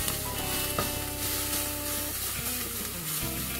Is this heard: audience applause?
no